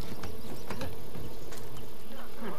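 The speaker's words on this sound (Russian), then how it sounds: "Ой, пчелки. Где-то здесь гнездо." Bees buzz near a nest in the video game Far Cry 5, a loud continuous droning hum with individual insects swelling past, over a constant ambient game backdrop.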